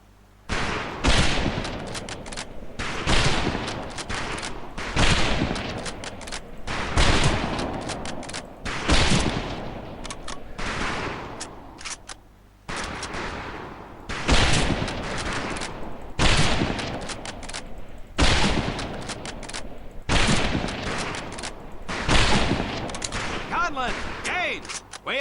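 Repeated rifle volleys crack across a training range in the Medal of Honor Pacific Assault game, loud bursts of gunfire coming in steady groups with brief gaps, a commanding voice calling out between them.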